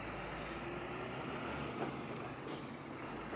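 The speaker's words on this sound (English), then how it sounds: "Almost sounds like a garbage truck, but that's a serious little bad boy there." A large camping vehicle called the Tartaruga driving past outdoors, a heavy truck-like diesel rumble with a faint hiss, steady and moderately close, with no talk.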